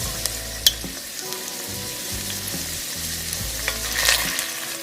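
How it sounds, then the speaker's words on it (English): Steady sizzling of chickpeas in a hot pan, with scattered small pops and crackles over a continuous frying hiss and a low background hum. "Oh, they're sizzling. They're popping."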